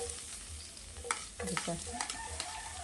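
Garlic and red onion sautéing in a pan, a close hiss and sizzle with scattered spatula scrapes and clatter growing busier partway through.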